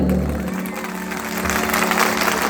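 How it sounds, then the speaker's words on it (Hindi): An audience at a devotional bhajan performance at Charan Tirth Pawan Dham claps in a dense, continuous wash, close and fairly loud, with a low hum underneath. "एक बार जोरदार तालियां बजा दो।"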